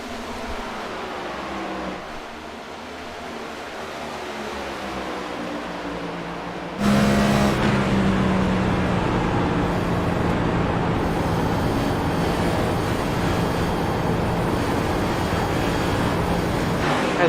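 Stock-style race cars running in close traffic at a short track, engines droning loud and steady as drivers feather the throttle in dirty air, with a sharper, louder surge of engine noise partway through.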